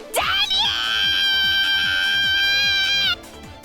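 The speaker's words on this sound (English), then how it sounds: "Her yells reverberate through the ring." A girl's sustained battle yell from a visual novel game rises sharply, then holds a bright, strained cry for about three seconds before cutting off, set over a rhythmic pulsing background beat.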